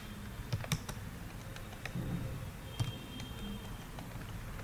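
Keys on a computer keyboard tapped while Java code is written, scattered clicks at an uneven pace with a few louder strikes, close and fairly quiet, with no talking.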